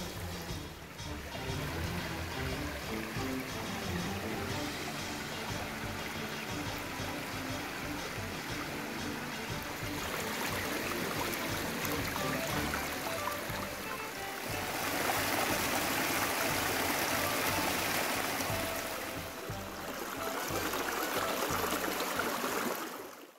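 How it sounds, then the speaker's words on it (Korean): Valley stream water flowing steadily through a dense spring forest near a mountain temple, a continuous broad rushing and babbling wash that swells slightly louder midway and stays constant, with no other sounds over it. "숲을 가득 채우는 계곡 물소리가"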